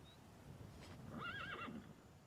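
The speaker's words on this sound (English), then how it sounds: "You're able to pet the horse." A horse whinnies in the video game Elder Scrolls 2: Daggerfall, one wavering neigh, fairly faint, over a steady background hiss with no talking.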